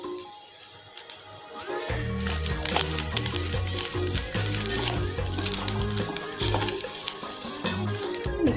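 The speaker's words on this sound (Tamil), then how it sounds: "சேர்த்துட்டு நல்லா கிண்டி விட்டுருங்க" Coconut rice mixture being stirred in a hot pan, a steady scraping and gentle sizzle running continuously at close range with small clinks of the spoon against the pan, no voices.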